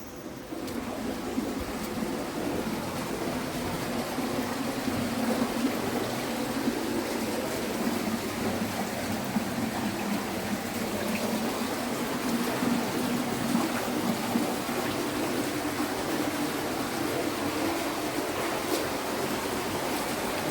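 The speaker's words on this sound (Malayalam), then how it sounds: "ഈ ഗുഹയുടെ അകത്ത് നല്ല മനോഹരമായ ഒരു ചെറിയൊരു വെള്ളച്ചാട്ടം" A small waterfall inside a cave pours with a constant, even rush of water that fills the space at moderate loudness for the whole stretch, with no talking.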